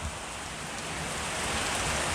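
Steady rain pours down in Srinagar, Kashmir, a dense, continuous hiss of falling water that swells slightly louder over a couple of seconds, with no voices.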